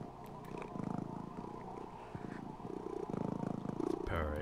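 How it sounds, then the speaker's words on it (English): In the video game Vampire The Masquerade Redemption, a cat perched on a character's shoulder purrs steadily in a soft, rhythmic rumble that continues throughout. "It's purring."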